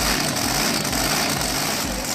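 Loud 677.4 cubic inch alcohol-fuelled boat engine, a dense, steady, pulsing roar that fills the entire short moment at close range with no voices.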